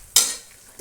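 A spoon makes a single quick scrape while stirring bay leaf powder into a pot of mutton soup. The short, fairly loud stroke fades within half a second, and a faint second scrape follows at the end.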